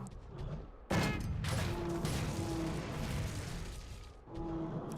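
Light bowgun shots in Monster Hunter 3 Ultimate, a sudden loud blast followed by a dense run of rapid-fire reports and mechanical clatter that holds steady for several seconds, then eases and picks up again near the end.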